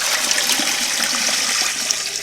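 Water pours steadily from a tap into a metal pressure canner loaded with jars of cubed steak, a continuous close rushing splash with no talk.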